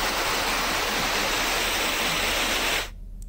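Floodwater rushes across farmland in a dense, loud, continuous roar that cuts abruptly to a quieter background near the end.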